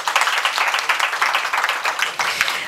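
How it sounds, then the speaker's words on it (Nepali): A quiz show audience claps for the teams that have advanced to the second round. The applause is loud, dense and continuous from a crowd of many hands, keeping up a steady patter throughout. "ताली बजाएर बधाई ज्ञापन गरिदिनु होला"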